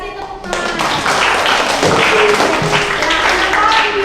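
A classroom of students bursts into loud, sustained clapping that starts abruptly and keeps up evenly for several seconds, with a few voices mixed in.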